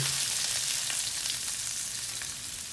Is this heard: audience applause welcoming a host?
no